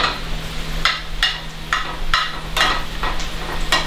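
Food pieces laid flat in a home kitchen pan fry with a steady close sizzle, broken by regular louder bursts of spitting and crackling every half second or so.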